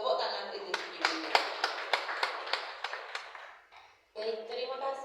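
Seminar audience clapping at an orientation event in Surakarta, a run of sharp, fairly even claps that fades toward the end, followed by a voice speaking.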